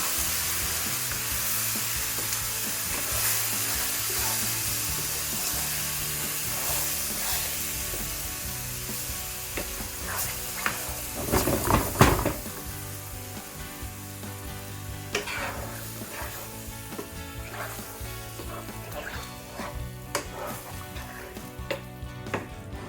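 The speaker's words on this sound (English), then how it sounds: "We pour the chicken onto the pan. And we're going to want to stir again until everything is nice and baked in there." Chicken hariyali hisses in a hot pan as it is poured in and stirred, a broad steady sizzle with a louder burst of scraping and spattering midway, then settling again.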